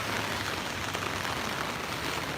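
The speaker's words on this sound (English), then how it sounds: "it's been raining heavily for the past 8 hours" Heavy rain pouring down in New York City, a dense, even hiss of drops on hard surfaces, close and unbroken with no voices.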